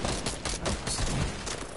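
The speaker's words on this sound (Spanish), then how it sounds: "Oigo los disparos, pero no los veo a nadie, tío." Rapid bursts of gunfire from the video game Fortnite on PS4, a dense, continuous crackle of shots at moderate distance filling the whole moment with no voices over it.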